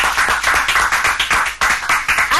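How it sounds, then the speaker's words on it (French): Applause from a French-speaking game-show studio audience, loud, close and sustained, with dense overlapping claps and no speech on top. "Allegra, sous vos applaudissements."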